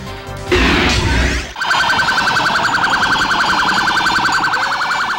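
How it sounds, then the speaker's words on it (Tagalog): Loud, steady blaring of vehicle horns and noisemaker horns on New Year's Eve in Cebu, with an earlier harsh burst of noise, sustained and close. "Gamit ang mga busina ng iba't ibang sasakyan at pampaingay na turotot."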